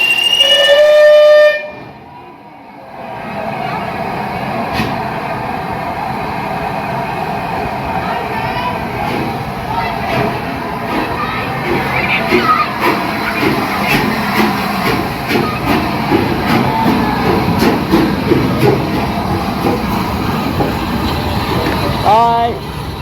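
Train with a locomotive at the Bluebell Railway, a steady rumbling and rolling noise that holds and swells gradually over twenty seconds after a brief opening tone, with people talking nearby.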